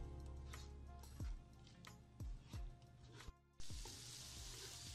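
Spice masala frying on medium-low heat, probably for a camel meat dish, gives a quiet sizzle with a few distinct stirring clicks and scrapes, then a louder hiss near the end.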